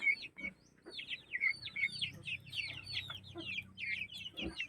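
Barred Plymouth Rock crossed with Rhode Island Red chickens, alongside White Leghorn crosses, give a steady run of soft clucks and squeaky chirps, fairly close, with a low murmur of background noise and no talk.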